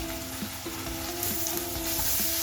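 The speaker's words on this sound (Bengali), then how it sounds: "এগুলো ওই তেলের মধ্যে সবার ফার্স্ট গ্রেট করা রসুন দিয়ে দিলাম" Grated garlic and ginger sizzle in hot oil in a pan, a steady close frying hiss with a few light stirring clinks, no talking.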